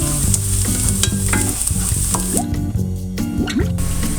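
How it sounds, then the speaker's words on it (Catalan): Chopped onion sizzles in hot oil in a casserole for a slow-cooked sofregit, a bright continuous frying hiss with repeated stirring scrapes and clinks of a utensil against the pot, no talking. "posarem a fregir la ceba per començar a fer un sofregit"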